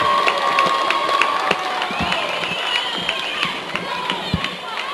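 A good-sized home crowd at an Idalia vs Otis Region 3 high school volleyball match cheers and shouts steadily in a gym, a busy roar of voices with sneaker squeaks and sharp thumps of play cutting through.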